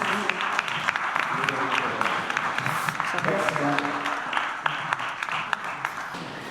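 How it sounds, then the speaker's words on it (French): An audience at a film festival event applauds continuously, a dense wash of clapping with a few voices murmuring underneath. "Ils ont applaudi, donc je crois qu'ils ont apprécié."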